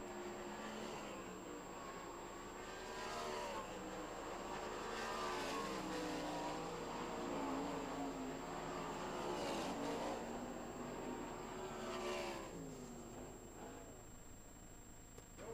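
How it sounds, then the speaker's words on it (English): Sprint race cars running hot laps on the Port Royal Speedway dirt oval, engines rising and falling in waves as cars pass, revving continuously with distant and nearer passes, no talk in the mix. "Second session of United Racing Club Hot Laps underway here at the Port Royal Speedway."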